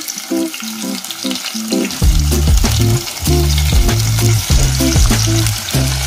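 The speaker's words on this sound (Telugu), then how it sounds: "మ్యారినేట్ చేసిన చికెన్ని వేసుకొని బాగా కలుపుకొని" Marinated cashew chicken fries in a clay pot, village style, as a loud, close sizzle fills the air and a spoon scrapes and stirs in a quick, repeating rhythm, with no talking.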